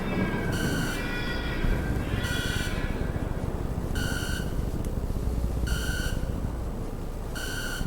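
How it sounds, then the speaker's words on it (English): A distorted radio beacon beeps at a steady, even pace in the video game Mouthwashing, short bright bursts repeating roughly every second and a half over a constant rumbling, grinding noise like screeching metal. "One sounds like screeching metal, and the other is a distorted beeping at an average pace."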